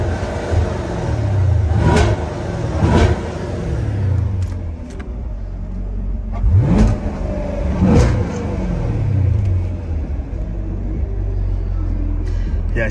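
A 2023 Chevrolet Camaro SS in track mode revs repeatedly over a steady deep idle, each rev rising and falling loudly nearby, with people talking in between.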